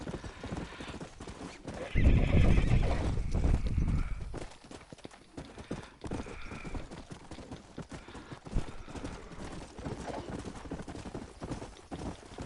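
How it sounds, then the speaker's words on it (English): A horse in the Red Dead Redemption video game neighs loudly and its hooves clip-clop, with a strong burst early on, then steadier hoof steps continuing at a lower level. "Come on, let me ride the horse then."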